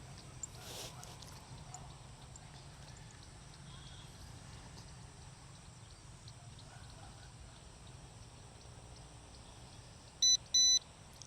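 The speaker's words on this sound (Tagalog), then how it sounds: "Nag-beep na." Controller of an LSRC S-X1 GPS drone beeping as it links to the drone: a short burst of bright electronic beeps near the end, over steady outdoor background noise.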